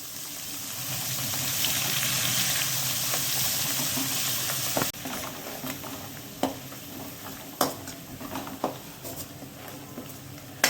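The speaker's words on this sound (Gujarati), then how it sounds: "હવે આપણે આદુ લસણની પેસ્ટ છે એ સતરાઈ ગઈ છે।" Ginger garlic paste and red chilli powder sauté in a pan on low heat, first as a dense broad sizzle, then as a quieter sizzle broken by several sharp spoon scrapes and knocks, close by with no voice.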